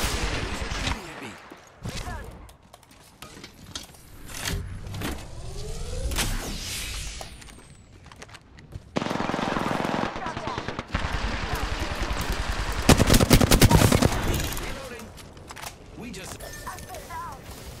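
Bursts of video game gunfire in a shooter, with rapid volleys and single shots scattered through the stretch, some loud and close, mixed with game effects and a voice talking over it.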